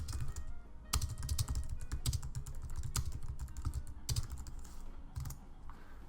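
Steady keyboard typing in Adobe XD, a quick run of keystrokes entering text, close and fairly loud with brief pauses between bursts and no talk.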